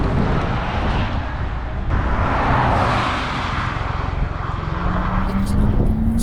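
A Porsche Taycan Cross Turismo Turbo electric car drives along with a loud, futuristic synthesized whine and rising electric-motor tone over road roar.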